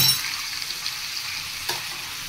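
Onion and capsicum sizzle in hot oil, with boiled cabbage, carrot and beans added, for noodles; a steady close fry hiss runs throughout, broken by a short stirring scrape near the end.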